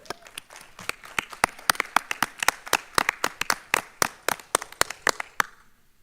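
An audience at a school board meeting claps for several seconds, a brisk run of distinct, fairly close handclaps that thins out and stops at the end.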